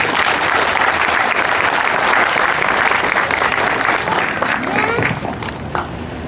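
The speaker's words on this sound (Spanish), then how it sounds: "quiero cederle la palabra a Jorge Zamudio, para quien pido un fuerte aplauso." Crowd applause at a political party inauguration ceremony at party headquarters, dense loud clapping from many people throughout, with some voices faintly mixed in as it begins to thin out.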